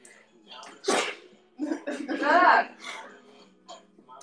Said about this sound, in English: Hold on, I'm about to have a sneeze attack.